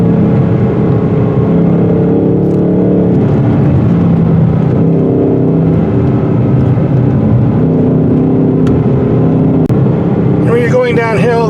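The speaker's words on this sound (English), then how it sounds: "if you turn up the exhaust to full volume, that makes it even better" A 2024 Ford Mustang GT with a 6-speed manual accelerates with its exhaust at full volume, a loud continuous engine roar with rising and shifting tones, a voice speaking briefly near the end.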